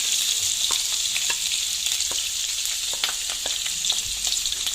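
Chillies, garlic, ginger and onion sizzle steadily in a hot pan for a curry. The frying is loud and close, with occasional stirring scrapes and no talk.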